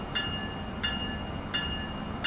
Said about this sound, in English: Let's turn on the bell.